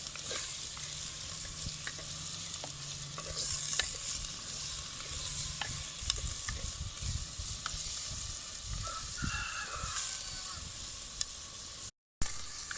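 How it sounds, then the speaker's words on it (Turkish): Meat sautéed in a pan, added over onions already softened, for a Turkish dry bean stew: a steady, close sizzle with occasional stirring scrapes, and no talking. "Üzerine etimizi ilave ediyorum. Güzelce kavuruyoruz."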